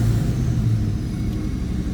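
A 2001 Ford Mustang Sean Hyland Motorsports Edition engine idling, a loud, steady low rumble with a deep throbbing burble close by, no voices over it.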